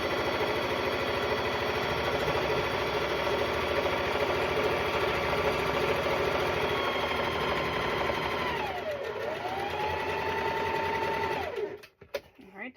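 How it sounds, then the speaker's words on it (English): A sewing machine stitches a Halloween cat quilt block in one long steady run, a close humming whir with rapid needle ticking that slows and winds down near the end, followed by a few brief handling clunks. "Fabric's in my machine. Clip comes off, and I start sewing."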